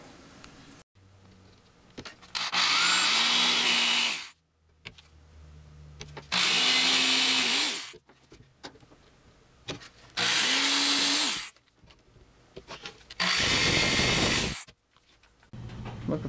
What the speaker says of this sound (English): And now we're going to drill pilot holes